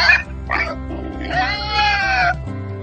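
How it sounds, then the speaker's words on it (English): A pig grunts and squeals several times in quick succession, with nasal oinks and a longer high squeal, over a faint steady background tone. "Yes, it's a pig."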